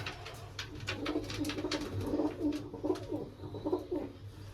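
Repeated soft pigeon coos in a steady rhythm, close by, with a low background hum and no talking.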